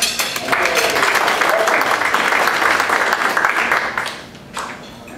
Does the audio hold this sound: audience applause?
yes